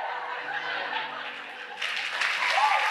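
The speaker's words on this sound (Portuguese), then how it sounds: "Elas estão aplaudindo, sabe por quê?" A church congregation breaking into applause, a dense wash of clapping that swells louder partway through, mixed with murmurs and light laughter from the crowd.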